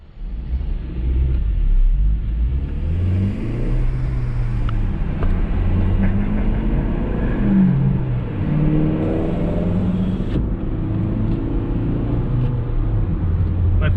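A newly bought race car's engine rumbles low and steady while driving, a close, continuous drone with gentle shifts in pitch as the throttle changes, and no talking.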